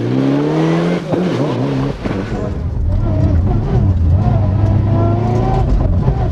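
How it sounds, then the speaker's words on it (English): Onboard Group N Mitsubishi Evo 6 rally car at the Jim Clark Rally, its engine revving and climbing through gears loudly and continuously, with a commentator talking over the noise. "with our onboard Group N man, Roy White, next up on the FESP Mitsubishi Evo 6."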